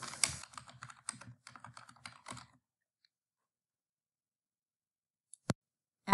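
Rapid keystrokes on a computer keyboard while entering a name into a spreadsheet footer, a dense burst of close clicks for about two seconds, then silence broken by a couple of isolated sharp clicks near the end.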